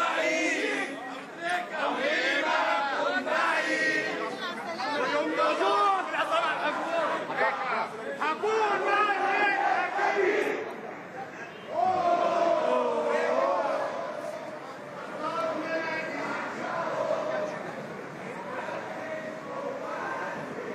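Football fans chant and cheer as they welcome the Al Ahly club team arriving in the UAE, a loud crowd of rhythmic voices sustained throughout, with a brief lull midway.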